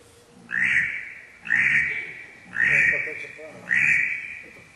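Four evenly spaced, nasal quacking calls imitating a mallard drake, each a short rasping burst made on a handheld call.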